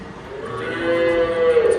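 On a Dutch dairy farm that produces milk for Gouda cheese, a cow lets out a single drawn-out moo, rising and swelling toward the end, close and fairly loud with no talk.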